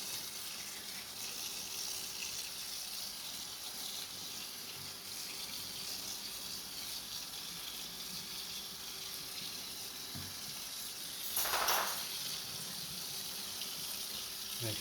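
Hot running water from a tap rinses a freshly dyed spiral tie-dye shirt, a steady broadband gush that continues evenly throughout, with a brief louder splash near the end.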